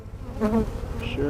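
Honeybees drone loudly and continuously around an open hive during a spring inspection, a dense close buzz with higher-pitched passes from individual bees flying near.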